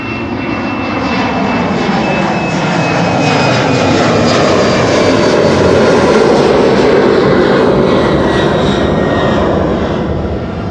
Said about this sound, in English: Delta A330neo, Delta Airlines flight 49 to New York